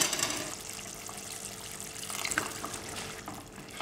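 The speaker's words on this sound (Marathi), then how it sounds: "पुन्हा आपण झाकण ठेवून थोडंसं पाणी टाकूया" Water pours into a cooking pot of drumstick and potato curry, a steady close splashing rush that runs throughout without talk.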